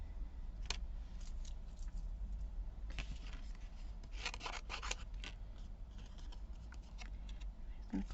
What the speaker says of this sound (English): I'm just going to come along and cut this one out.